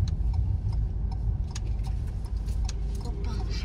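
A car's turn indicator ticking in a steady, fairly quick rhythm inside the cabin, heard over a loud low engine and road rumble while the car is moving.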